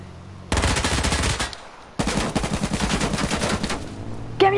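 Rapid automatic gunfire in a shooter video game, two loud sustained bursts of close shots with a short pause between them.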